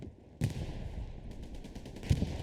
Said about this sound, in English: Now there's an explosion that looked like a tank round, possibly